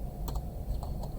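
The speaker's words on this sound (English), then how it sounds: "I'm going to type in a diameter of" A few quick soft keystrokes on a computer keyboard while entering a value in CAD software, close and quiet over faint background hum.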